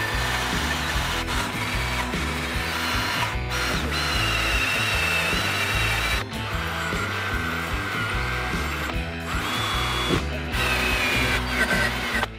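A power tool whirs and grinds steadily while cleaning the steering pump and alternator brackets on a Volvo 850 engine, a continuous close mechanical drone with brief dips and surges in pitch.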